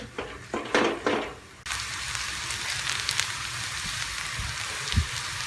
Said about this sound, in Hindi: प्याज को हम सौते होने तक फ्राई करेंगे।